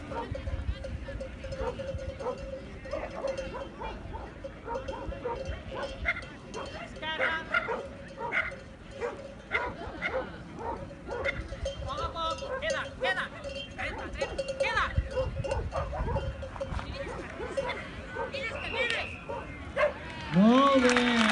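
A sheepdog barks and yips at a sheepdog trial in Campllong, sharp intermittent barks and a few whimpers scattered across an outdoor field, with people talking throughout and a bell clanking faintly at times.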